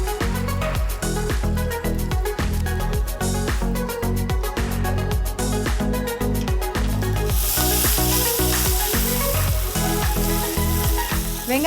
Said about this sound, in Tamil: வெங்காயம் சூப்பராக ரோஸ்ட் ஆகிட்டுருக்கு.